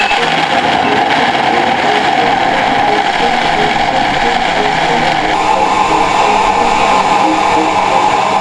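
A kitchen blender runs steadily throughout, whirring loudly and continuously as it blends small pieces of coconut meat with fresh water, with no talk over it.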